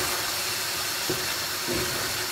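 Beef liver stroganoff simmers in a pan, giving a steady, close, broadband bubbling hiss that runs evenly throughout with no voices.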